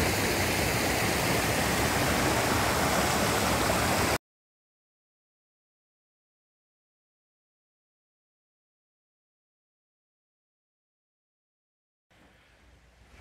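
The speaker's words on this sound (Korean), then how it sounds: "물소리 들리시죠?" Stream water rushing through a rocky mountain valley, a loud, steady broadband roar that cuts off abruptly into silence and returns much fainter near the end.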